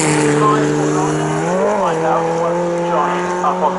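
A Heritage Formula Ford single-seater races at Cadwell Park, its engine note loud and steady, with a brief rise and fall in pitch and a faint bit of tyre noise.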